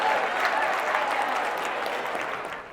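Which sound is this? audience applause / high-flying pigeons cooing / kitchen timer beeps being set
audience applause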